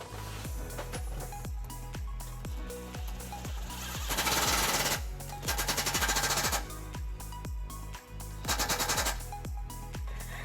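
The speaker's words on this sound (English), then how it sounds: "Now we're going to use some large self-tapping screws to attach our bracket to our frame." Impact-style bursts drive large self-tapping screws through a 13mm socket into the frame while a trailer hitch bracket goes onto a 2006 Lexus LX470. The rapid hammering is loud and close, rising into three stronger bursts.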